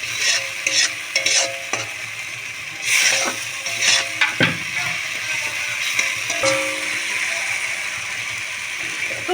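Onion and spices sauté in a hot pan for a Bengali bhola fish dish, with a steady sizzle broken by repeated scraping stirs and occasional utensil clatter close by.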